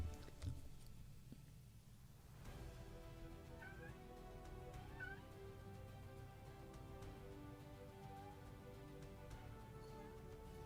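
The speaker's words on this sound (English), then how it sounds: "Yes, I have a very talkative cat." A talkative cat meows a few times indoors, short rising mews spaced a second or so apart over a low steady room hum.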